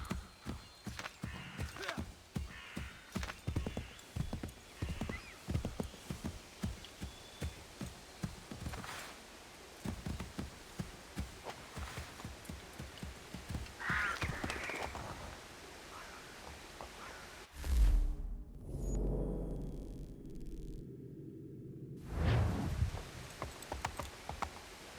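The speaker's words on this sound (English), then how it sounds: "Horse." Rapid hoof clops from a galloping horse in Assassin's Creed III Remastered fill the first half, fading into softer footfalls and ambient game sounds after a brief lull. No talking.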